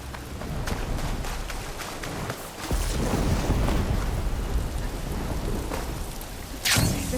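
Steady heavy rain pours throughout a stormy scene in Horizon Forbidden West, with deep rolling thunder swelling in the middle and a sharp crackling burst near the end.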